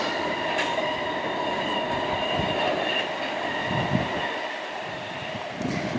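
A Class 455 electric train heading to London Waterloo passes a footbridge at Wimbledon, giving a continuous rolling rumble with faint metallic wheel squeal and clatter at moderate distance.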